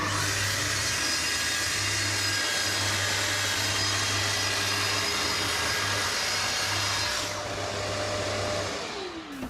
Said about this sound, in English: then I could trim the edges with a single cut with the track saw